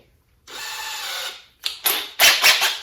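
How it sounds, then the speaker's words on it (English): A power drill fitted with a Forstner bit whirs steadily for about a second, stops, then bites into wood in several short, louder grinding bursts, boring a concealed hinge cup hole. "now you're just going to hold it down and you're going to drill it out."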